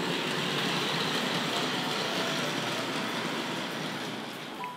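A model train, the Duchess of Montrose locomotive, runs steadily back toward a station on a layout, its rolling rumble loud and continuous before easing slightly toward the end.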